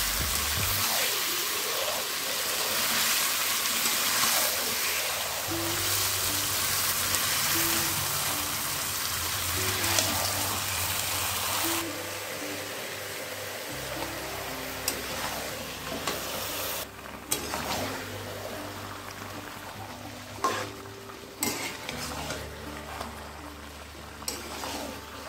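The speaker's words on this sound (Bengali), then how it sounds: "আমি মাংসটাকে 3 মিনিট মতো কষিয়ে নিয়েছি।" Chicken pieces sautéed with fried onion in a pan with very little oil: a continuous close sizzle lasting a long while, broken by repeated scraping strokes of a spatula as the meat is stirred, with no talking.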